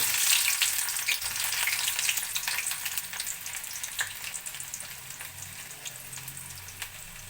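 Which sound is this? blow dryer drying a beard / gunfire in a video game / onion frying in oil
onion frying in oil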